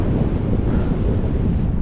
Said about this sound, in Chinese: 今天又赶上一个大风天气啊，没有办法，大风也得骑啊